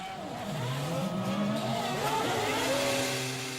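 Felipe Massa's 2008 Ferrari Formula 1 car travels the length of a busy pit lane, its high-pitched engine whining and rising and falling in pitch with gear changes, loud and fairly close.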